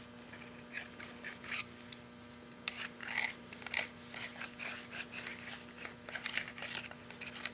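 Welding pliers scrape spatter from the inside of a MIG welding nozzle, giving repeated short metallic rasping strokes, close and fairly quiet, with no talk.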